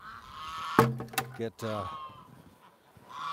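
Geese and ducks honk in a short, loud, close cluster of calls at a winter farm feeding rush, followed by quieter honks, with someone speaking briefly.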